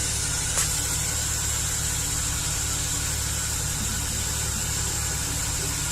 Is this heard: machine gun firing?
no